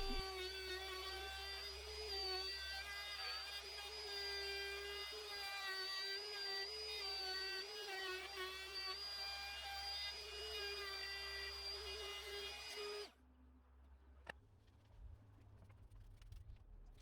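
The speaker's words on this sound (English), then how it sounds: "using a straight bit in my router, I begin to cut the recess" Router with a straight bit cutting a recess in wood for an arcade cabinet, a steady high motor whine with a harmonic cutting tone held for about thirteen seconds, then the motor shuts off and winds down.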